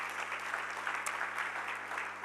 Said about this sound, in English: So, I mean, a big applause.